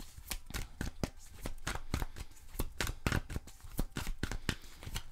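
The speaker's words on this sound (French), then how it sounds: "On va chercher votre dernière carte." Tarot cards being shuffled by hand, close and quiet: a quick series of sharp riffling snaps and soft slaps repeating unevenly for several seconds, heard alone.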